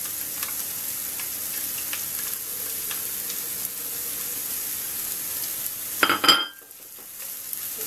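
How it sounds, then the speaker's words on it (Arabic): Onions fry in extra virgin olive oil in a pan, making a steady, bright hiss that runs throughout. Faint ticks sit under it, and a brief louder clatter near the end is followed by a drop in the sizzle. "الان نقلي البصل ديالي"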